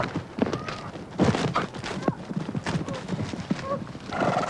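A spooked horse's hooves thud and clatter irregularly on a hillside amid neighs and commotion, with brief voices, as the horse moves abruptly.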